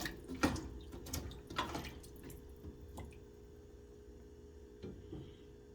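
Water is poured into a cooking pot, giving faint splashes and trickles with a few louder bursts early on, then settling to a quiet, steady low flow.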